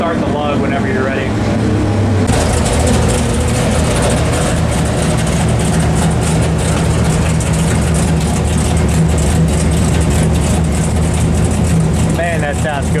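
A 451 Mopar big block stroker roars on a dyno, building sharply into a loud sustained pull that stays near and dominant for the full run.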